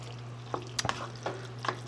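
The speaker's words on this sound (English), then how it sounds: "I'm just going to stir the corn in here and let it cook" A spoon stirs corn into a pot of burrito stew with black beans, rice, onions and peppers, giving a few soft scraping strokes over a low steady hum of cooking.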